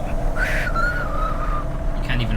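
A single person whistles a short, wavering, out-of-tune melody in the video game Cloudpunk, heard over a steady low hum of background ambience.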